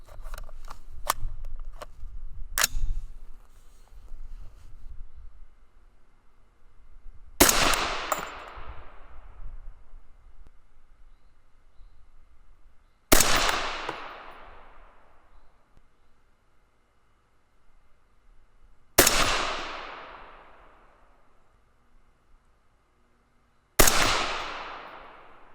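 Five reloaded M855A1 rifle rounds fired one at a time, each a loud sharp crack with a decaying echo, spaced about five to six seconds apart after some faint handling noise.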